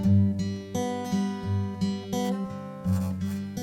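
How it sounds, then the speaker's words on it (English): Fingerpicked acoustic guitar playing a steady thumb-and-finger pattern for a worship song, clear plucked notes ringing in an even repeating rhythm, close and alone. "there's a finger-picking acoustic guitar in here"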